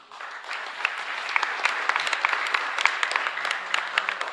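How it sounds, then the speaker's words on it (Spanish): Applause from a congregation at Mass in a chapel, a dense, steady patter of many hands clapping continuously for several seconds, fairly close and without talk. "un fuerte aplauso para ustedes"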